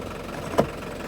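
A Land Rover 90 engine runs steadily at a low, even drone throughout, close and moderately loud, with one brief knock partway through.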